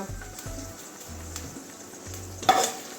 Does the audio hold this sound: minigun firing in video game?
no